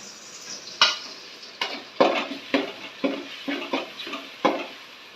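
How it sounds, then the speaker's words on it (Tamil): Ginger garlic paste stirred into onions frying in a pan for beef boti gravy, with a steady sizzle broken by repeated scraping strokes of a spoon against the pan at a slow, regular rhythm, close and clear, no talk. "இப்போ அரைச்சி வச்சிருக்கிற இந்த இஞ்சி பூண்டு பேஸ்ட்டை நம்ம இந்த வெங்காயத்தோட ஆட் பண்ணுறோம்"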